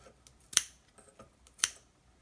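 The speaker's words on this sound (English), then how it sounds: "And take a scissors. So this is very useful because the scissor slides right in," Scissors snip through tassel yarn held on a Clover tassel maker, two crisp cuts about a second apart with small handling ticks between, close and quiet.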